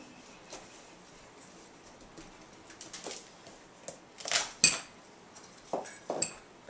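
A knife works through the tough stem end of a vegetable on a cutting board, giving scattered sharp clicks and taps that grow louder and more frequent toward the end.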